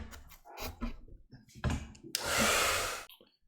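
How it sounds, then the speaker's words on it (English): Hair dryer blowing on a watercolor Christmas card painting, a loud steady whoosh lasting under a second after some soft handling noises. "I'm going to take my hairdryer and I'm going to give this a quick dry"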